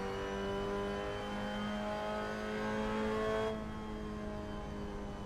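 A Mazda MX-5 Cup race car lapping Suzuka in Assetto Corsa drones with a steady, loud engine note that holds through the clip, then drops off as the throttle lifts, with no talking over it.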